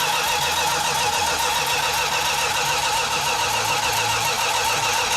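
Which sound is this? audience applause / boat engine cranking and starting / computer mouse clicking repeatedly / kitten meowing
boat engine cranking and starting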